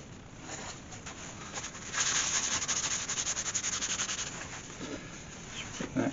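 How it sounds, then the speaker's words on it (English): Sand sealer is rubbed onto a wood-turned bowl spinning on the lathe, making a steady close rubbing hiss that rises into rhythmic pulsing friction midway before easing off. "now I'll just put some sand sealer on there"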